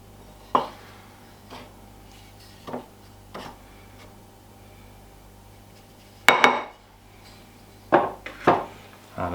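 Flour and baking powder being mixed in a bowl for a carrot cake, heard as scattered knocks and clinks of a utensil against the bowl, with several sharper clatters near the end.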